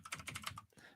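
Rapid computer keyboard typing, a burst of close, clicky keystrokes in quick succession, heard alone and fairly quiet in a podcast studio.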